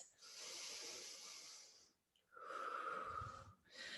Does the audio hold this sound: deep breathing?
yes